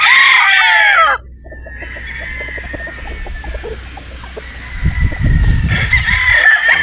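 Sweater Boston gamefowl rooster at a Batangas game farm gives a loud, close crow, then clucks and rustles, and another drawn-out crow rings out at the end.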